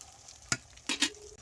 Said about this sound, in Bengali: ভালো করে নেড়ে চেড়ে ভেজে নেবো এরকম তেলের মধ্যে